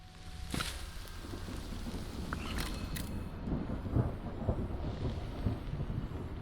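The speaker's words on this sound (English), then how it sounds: "The rain doth start to fall." Rain falling in the video game Mind Over Magic, a steady wash of rainfall with low rumbling underneath and a few brief louder bursts, fairly quiet overall.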